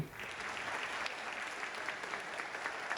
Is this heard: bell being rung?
no